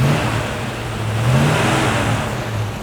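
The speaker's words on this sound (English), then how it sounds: "Give it some gas, Pete." A 1970 AMC AMX V8 revs with a sustained, loud, throaty drone that swells and eases slightly over a few seconds, heard up close without voices.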